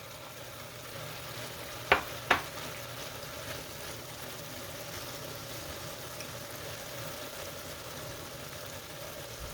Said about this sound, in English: we're gonna go ahead and add the tomatoes, the diced tomatoes to it.